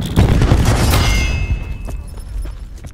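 Cluster grenade blasts in the shooter game Call of Duty: Black Ops 4, a dense burst of booming, crackling explosions that loosens and thins over a few seconds, trailing into scattered distant pops.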